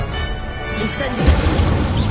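An Incendio fire spell cast in Hogwarts Legacy erupts as a sudden loud crashing burst partway through, then a dense fiery roar carries on over a steady bed of game ambience.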